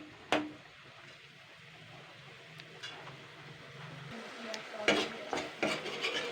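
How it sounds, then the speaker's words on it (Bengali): Spice paste with two green chilies sautéing in a pan for cholar dal, giving a soft sizzle with intermittent spoon scrapes and clinks, close but fairly quiet. "মশলাটাকে কিন্তু ভালো করে কষিয়ে নিতে হবে।"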